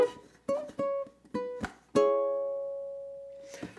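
Solo ukulele plays a short melodic phrase of plucked notes in uneven rhythm, ending on one long ringing note that slowly decays, close and clear with no talk.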